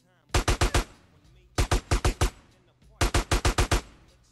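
Gunfire in the video game GTA San Andreas: three quick bursts of four or five rapid shots each, sharp and loud, separated by short pauses, with no talking over them.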